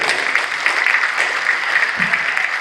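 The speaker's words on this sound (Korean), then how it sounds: "우리 두 분들에게 박수 한번 해주시면 고맙겠습니다" A large audience applauds the university president and new board chairman at a 120th anniversary ceremony, with steady, dense clapping throughout and no pause.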